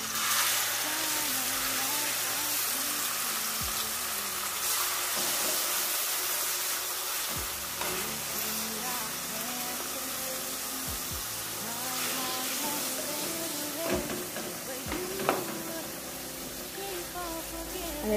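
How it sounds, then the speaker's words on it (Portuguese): Collard greens fry in lard in a home kitchen pan, giving a steady sizzling hiss that runs the whole time, with a few faint clinks and a brief voice in the background. "É que eu deixo fritar."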